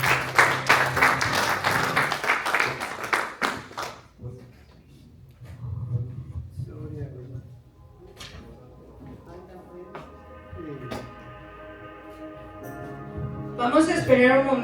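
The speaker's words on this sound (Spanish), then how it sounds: "Denle un aplauso al Señor." Church congregation applauding after a prayer, a dense burst of clapping in the opening seconds that fades into quieter murmuring and voices, with a short swell of sound near the end.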